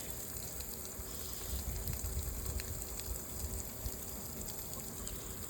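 Water pours gently from a hose or can onto a potted peppermint plant outdoors, a faint steady trickle and gush against quiet background noise, no voices.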